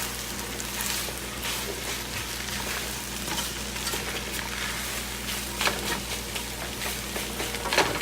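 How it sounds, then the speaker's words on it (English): Fried rice with soy sauce crackles and sizzles in a pan, a steady hiss of frying with scattered scraping stir noises, close and moderately loud with no talking. "just gonna mix it up a little more because we're frying the rice."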